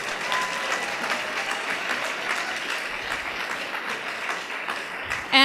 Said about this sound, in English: I think we need to put our hands together. Big round of applause